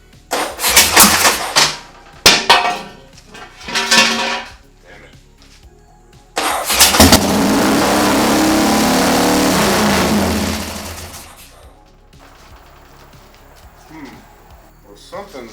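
A custom chopper motorcycle engine cranks and fires in short bursts, then catches and revs loudly for several seconds before dropping off, with voices talking between attempts.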